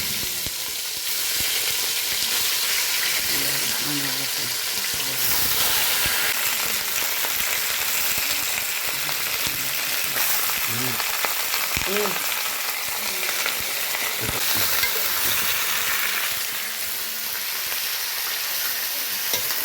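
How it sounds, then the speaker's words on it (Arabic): Meat sears in ghee in a hot pan, giving a loud, dense, continuous sizzle with occasional stirring scrapes and bubbling pops, heard up close. "جبت لحمه شوحها هنا كده بسمنه"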